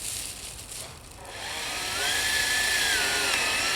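A drill drives a portable pottery wheel outdoors in a forest, its whine rising and settling into a steady high motor hum that runs alone without talk.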